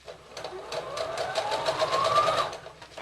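A sewing machine stitches a quarter-inch corner seam on a fabric gift bag, running in a steady rapid whir of needle strokes for about two and a half seconds before slowing to a stop for the pivot.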